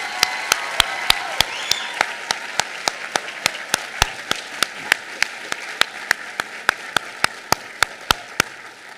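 At a medical school white coat ceremony, an audience applauds parents and friends with a steady wash of clapping, and one nearby pair of hands claps sharp, regular, evenly spaced beats throughout.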